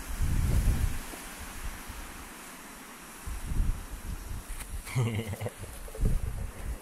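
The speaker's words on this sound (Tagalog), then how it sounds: "Lakas ng hangin." Gusty wind buffets the microphone in strong, uneven bursts at a camping site, with a voice briefly speaking over the roar.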